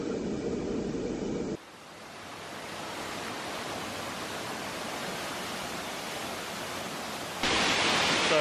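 Steady broadband rush of a waterfall reached by a steep rope-assisted descent on a hot day in Italy, loud and continuous, with a brief shift in tone near the start and end as the microphone moves.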